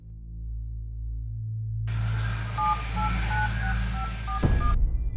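A telephone keypad dials a quick string of about eight short beeping tones over a low steady hum, ending abruptly.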